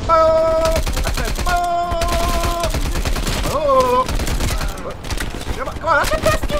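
Rapid bursts of automatic gunfire in the video game Call of Duty Black Ops Cold War, loud and close, with repeated shots cracking over game music and effects, intermittent throughout.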